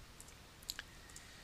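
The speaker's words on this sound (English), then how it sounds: "So I'm going to use my keyboard to adjust this point." Keyboard key presses while nudging a curve point in Photoshop: a few light, close clicks spaced irregularly over a quiet background, with no one talking.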